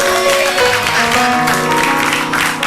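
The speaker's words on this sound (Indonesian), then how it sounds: "Oke, tepuk tangan dulu dong." Studio audience applause on an Indonesian TV talk show, steady dense clapping throughout with a musical backing underneath, loud and continuous.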